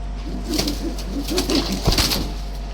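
Fancy white-faced pom pigeons coo in a breeding loft, a steady run of soft, rolling low calls close by with brief rustles and a faint wing flap, no voices.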